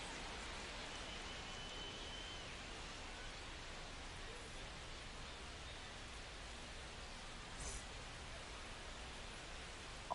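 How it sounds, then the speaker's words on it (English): Steady rain pours down on a baseball field in MLB The Show 25 during a Rainiers at Comets game, a broad even hiss that runs continuously at moderate volume with no voices over it. "We'll see how well the field holds up with the way the rain is coming down."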